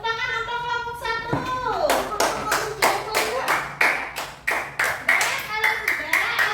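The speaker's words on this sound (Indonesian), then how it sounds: "sekarang tepuk tangan untuk kelompok 1" A class applauds group 1 at a school activity, clapping that swells into a steady, moderately loud roll of sharp hand claps, with children's voices briefly heard near the start.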